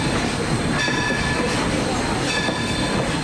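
Steamtown excursion train running on rails, heard from on board as a steady, loud rolling rumble with faint wheel squeal and clatter throughout.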